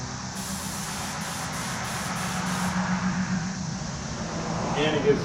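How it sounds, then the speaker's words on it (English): A spray gun hisses steadily while applying Cerakote coating to a Glock, a continuous close airy rush that runs throughout with slight rises in strength, while a person talks over it. "I normally spray a little thicker than I normally would"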